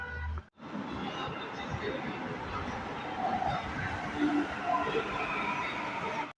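Delhi Metro train at Mandi House station, a steady loud rumble of the moving train with rail noise filling the whole stretch, briefly cut near the start, with faint voices underneath.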